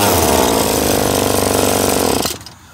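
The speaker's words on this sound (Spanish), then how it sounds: "Tenemos un motor que todavía prende" Small engine running without an air filter, a loud, rough, rapid hammering drone that holds steady for about two seconds, then cuts off abruptly.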